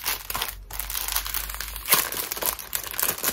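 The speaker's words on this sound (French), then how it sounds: "J'aime beaucoup ce papier cadeau, qui en plus d'être très joli est très satisfaisant à ouvrir." Gift wrapping paper is torn and unwrapped by hand, a steady close-up stream of crinkling, crackling and ripping paper with brief louder tears and no talking.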